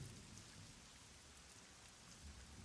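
Steady rain falls in the background, a soft continuous hiss with faint low rumbles of distant thunder and no voices.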